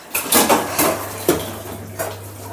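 Dishes, pots, pans and cutlery clatter in a home kitchen, with several sharp knocks and scrapes over a steady low hum and faint running water.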